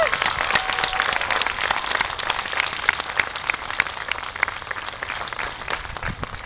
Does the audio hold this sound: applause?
yes